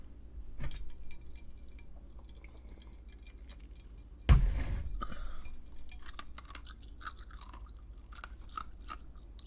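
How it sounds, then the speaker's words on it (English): Ice being chewed close to the mouth, with crunchy bites: one loud crunch midway and scattered clicks and cracks before and after, over a low steady background hum. "I'm chewing ice live on stream."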